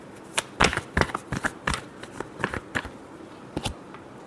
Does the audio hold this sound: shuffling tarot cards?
yes